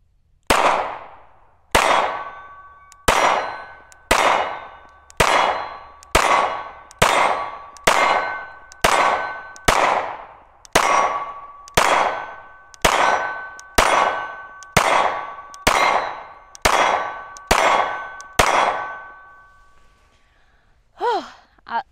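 A Dan Wesson DWX pistol fires at an outdoor shooting range. About seventeen loud, evenly spaced shots come roughly a second apart, each followed by a ringing metallic clang that decays quickly.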